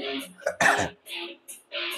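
A short, rough throat clearing, a couple of raspy bursts with brief pauses between them, close by.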